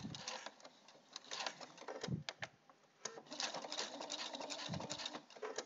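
A sewing machine stitches across the end of a zip on a parka, a faint rapid mechanical patter in uneven bursts with brief pauses as it labors over the thick spot.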